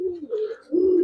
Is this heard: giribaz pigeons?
yes